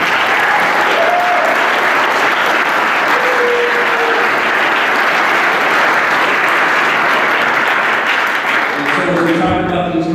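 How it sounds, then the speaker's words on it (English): Steady, dense applause from a large crowd at a school athletic awards ceremony, loud and sustained for about nine seconds before tapering off at the end. "So please give one more round of applause for them"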